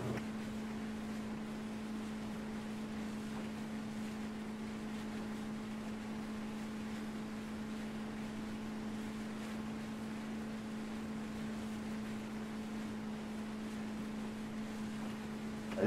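A boat engine runs steadily near the shore, a constant low drone with a strong hum and wind noise, holding an even level throughout with no talk.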